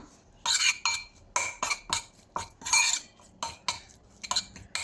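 A spoon stirring prawn marinade with fenugreek in a bowl makes bursts of scraping and clinking in an irregular rhythm, close and fairly loud, with quiet gaps between the strokes.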